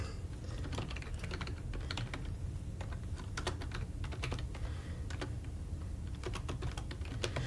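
Rapid, uneven typing on a computer keyboard, with dense clusters of crisp key clicks continuing steadily at close range and no voices.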